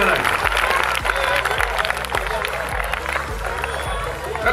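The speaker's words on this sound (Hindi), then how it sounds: "तालियां बजाइए बेटा जोर से। जोरदार ताली, जोरदार एकदम" School students clap together at a Republic Day celebration, loud dense applause with crowd noise throughout, thumping low rhythmic beats underneath.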